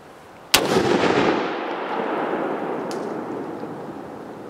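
One loud gunshot from a Keltec RFB 18-inch forward-ejecting rifle cracks sharply outdoors and leaves a long rolling echo that fades slowly, with a faint metallic click afterward.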